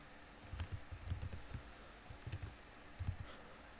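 Soft clicks of typing on a computer keyboard come in short irregular bursts, faint and close, with no talk over them.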